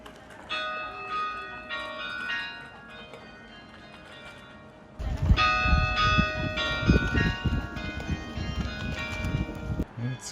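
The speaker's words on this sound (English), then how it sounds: "The church bells have been going for a while here." Church bells ring repeatedly in the town of Skagen, Denmark, a steady layered peal heard outdoors among street noise, with clip-clopping hooves and louder bustle joining midway.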